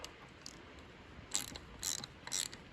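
Tightening a nut on old parts being fitted to a Massey Ferguson 1250 tractor with a black Perkins engine: three short, faint metallic ratcheting bursts, evenly spaced, close by in a quiet setting.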